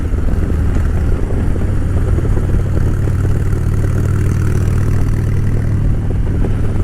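A Harley-Davidson Dyna motorcycle engine running while riding, a loud, constant low rumble with wind noise, steady throughout with no talking.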